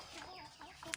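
Chickens clucking inside a brooding cage for fairly large kampung laying hens, several soft overlapping clucks and calls at close range with a sharper note near the end.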